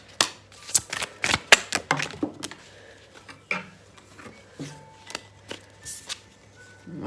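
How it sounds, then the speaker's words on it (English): Cards are shuffled and riffled up close in a series of quick, irregular clicks and flutters, with softer taps between bursts. "I'll shuffle and then I'm going to read the cards, okay?"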